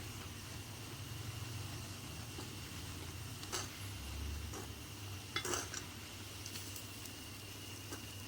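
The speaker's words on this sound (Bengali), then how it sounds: "এবার আমি মিশিয়ে নেব" Maggi noodles with masala stirred in a tiny miniature pot make quiet scraping and small metallic taps over a low background hum. A few light clinks stand out near the end.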